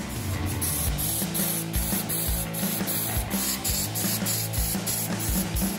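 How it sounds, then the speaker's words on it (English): Sprayable bed liner hissing steadily from a spray gun onto a 1974 Ford Bronco, a loud, continuous rushing spray with slight pulsing throughout and no talk. "This sprayable bed liner is great because, quite honestly, it's hard to make a mistake."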